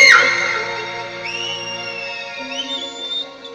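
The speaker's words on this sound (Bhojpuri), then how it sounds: "जी सीटी मारता रहो" Shrill sliding whistles ring out over a live stage show crowd in Mumbai, one long pitch bending upward and holding, loud and close with faint background noise.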